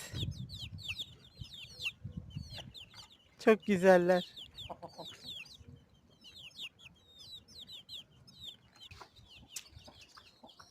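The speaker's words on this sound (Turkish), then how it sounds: "Civcivlerimiz." Chicks peep constantly in high chirps while a hen clucks nearby; a person briefly speaks partway through.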